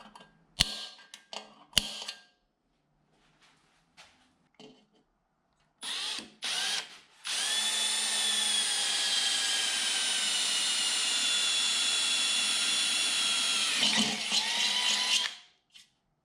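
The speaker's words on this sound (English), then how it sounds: "let me mark where I should drill this secondary hole" A power drill whines steadily for several seconds drilling a hole for a motorcycle LED taillight, preceded by a few short bursts and clicks, close and loud.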